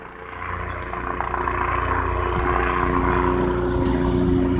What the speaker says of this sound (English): Dang, when is this helicopter leaving?